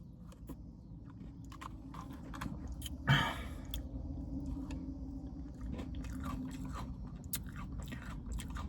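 Someone eating a Wendy's Frosty mixed with crunchy Pop-Tart pieces, close-up soft chewing with scattered crisp crunches and one sharp bite near the middle, no talking.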